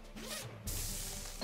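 A quick zipper rasp from the video game Headbangers: Rhythm Royale, short and crisp, with a faint whoosh-like texture and no voices.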